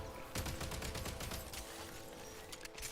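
Rapid gunfire in Genshin Impact as a character jumps and shoots, a quick fusillade of faint, crisp shots in a tight burst, with no talking.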